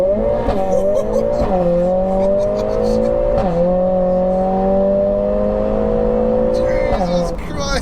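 A tuned 500 bhp Mercedes A45S accelerates hard in first gear, its engine note climbing steadily with brief dips at shifts, loud and close from inside the cabin, with crackles near the end.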